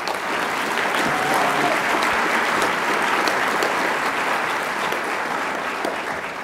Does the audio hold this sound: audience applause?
yes